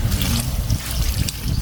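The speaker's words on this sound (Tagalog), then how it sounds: "Lagyan natin ng tubig." Water is poured in for a sweet drink made with milk and sugar, a loud close trickle that runs steadily for under two seconds with no speech.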